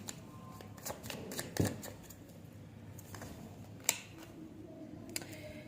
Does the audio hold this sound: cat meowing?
no